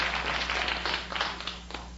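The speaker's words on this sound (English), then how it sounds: "there they are, the same moonshiners applauding" A studio audience on a vintage radio comedy quiz show claps in a short burst of dense, lively applause that thins out over two seconds, slightly muffled.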